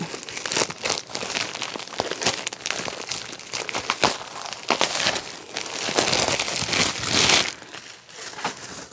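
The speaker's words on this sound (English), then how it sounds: "Let's open it up and look at it." Plastic packaging around a quilt being opened and handled, loud continuous crinkling and crackling close up with bursts of rustling, no talk.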